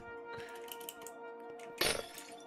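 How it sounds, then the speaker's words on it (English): Breaking glass in the Minecraft video game, a sudden bright burst of shattering near the end, over soft block-placing clicks and game sounds. "Yes, you like the sound of breaking glass."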